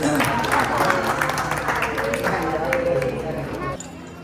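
Devotees at a temple in Vrindavan clap together, a busy crowd patter mixed with chatter and nearby voices, holding fairly loud before cutting off abruptly near the end.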